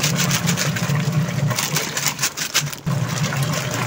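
An Astron washing machine runs a wash cycle with water being churned in the drum, giving a steady motor hum with a rhythmic sloshing swirl that dips briefly partway through, loud and close with no talking.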